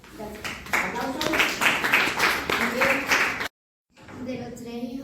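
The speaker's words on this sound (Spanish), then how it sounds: "Aplausos" Classroom applause after a student's oral presentation, a few seconds of dense clapping from a group of pupils that cuts off abruptly, then fainter background noise returns.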